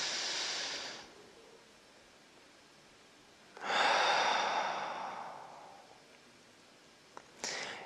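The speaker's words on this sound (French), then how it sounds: "On va prendre une grande respiration." A deep breath during a guided relaxation exercise: a soft, airy exhale near the start, then a longer, louder breath in and out after a pause, close and alone with no talk.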